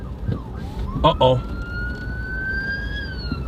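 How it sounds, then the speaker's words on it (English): An ambulance siren on the street sounds as a sustained, slowly rising tone at moderate distance, with brief voices and some thumps near the start. "Oh, you just heard the ambulance."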